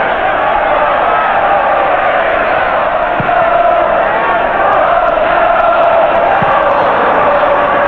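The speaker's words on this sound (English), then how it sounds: "Applause for Rice's coolness." Football stadium crowd at Chelsea versus Arsenal, a broad continuous roar of spectators with applause, loud and steady throughout, with a commentator's voice over it.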